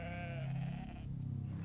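Sheep bleat across open Scottish glens where thousands graze, a wavering, nasal cry over steady low wind and field noise that carries through the whole moment.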